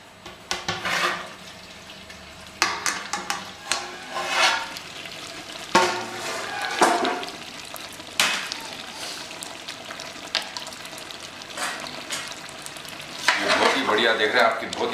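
Mutton curry made with Mathania chillies sizzles and fries in a pan while being stirred, with repeated scraping strokes over a steady close crackle.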